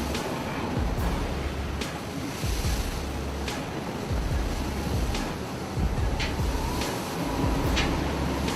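Stormy ocean waves pound a ship at sea in monster storm conditions, a dense continuous roar of surf and wind with repeated crashing surges and sharp spray bursts, loud and close, with no voices.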